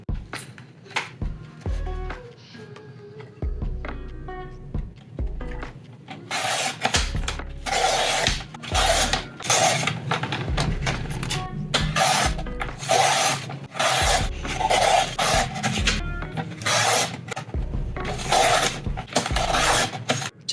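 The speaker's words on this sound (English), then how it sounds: "So let's move this to the side and do some cutting ASMR." Strips are snipped from vintage magazine photos with scissors, giving close, crisp repeated cuts and papery rustles in uneven bursts, quiet at first and then denser and louder.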